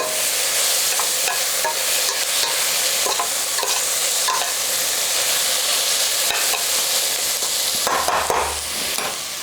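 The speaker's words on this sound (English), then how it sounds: "Let's keep stirring these around and let the onions break down again to build up the flavor for your braise" Onions, garlic and shallots, salted, being stirred in a frying pan for braised lamb shanks: a loud, continuous sizzle with repeated spoon scrapes and light clicks against the pan, and no talking.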